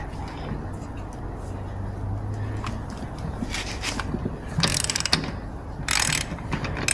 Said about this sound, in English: Gotta turn it the other way, Brinley, to tighten it